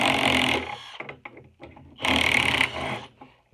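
A cordless impact driver hammers a 3/8 inch bolt through a 5/16 hole, firing in two loud rattling bursts separated by quieter clicks and handling noise.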